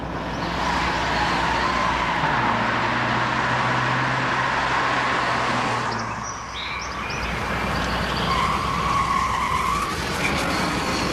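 A speeding car roars past with loud, sustained tire skidding and squealing, a continuous harsh rush of road noise that briefly dips before surging again.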